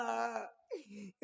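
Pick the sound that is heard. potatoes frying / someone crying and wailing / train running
someone crying and wailing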